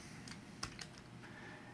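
A few scattered keystrokes on a computer keyboard while entering noise function code in Affinity's procedural texture filter, faint and quiet with one slightly sharper click near the middle.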